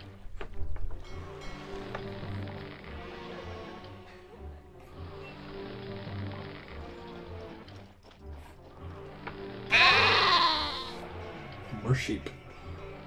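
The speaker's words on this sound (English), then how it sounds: "Sheep." Sheep bleat in the city-building game Caesar 3, a loud quavering cry standing out near the end over looping background music and ambient game sounds.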